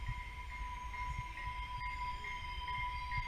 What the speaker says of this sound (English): our TRE train pulling into the station